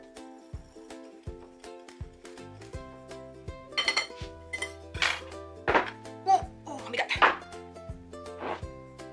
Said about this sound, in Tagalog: in another bowl, mix together flour, cocoa powder, baking soda, and baking powder